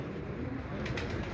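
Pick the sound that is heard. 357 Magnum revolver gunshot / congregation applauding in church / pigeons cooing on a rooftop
pigeons cooing on a rooftop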